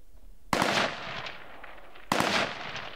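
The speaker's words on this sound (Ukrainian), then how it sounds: "За укриття і стріляєте." Two loud gunshots ring out about a second and a half apart during a military drill, each with a booming echo that slowly fades, with no talking.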